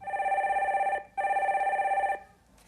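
A telephone rings for an incoming call to a Korean stock-market call-in show, two long electronic ring bursts separated by a brief gap, loud and close.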